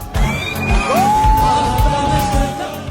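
Thousands of people cheer together at night in a Yemeni street, a dense, continuous roar of crowd voices with a shrill whistle or high yell rising above it.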